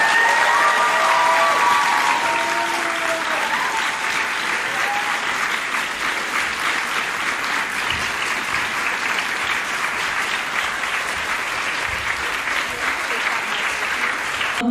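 Sustained audience applause after a speech at Stanford, a loud dense wash of clapping that holds steady throughout, with brief tonal voices or cheers near the start.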